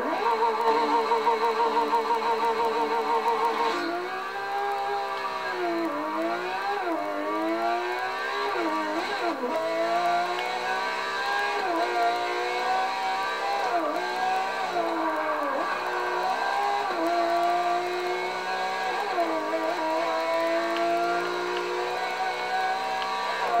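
A Pagani Zonda Cinque race car engine in the Forza 6 racing game climbs through repeated rising revs and gear-change dips, a loud, continuous, tonal howl.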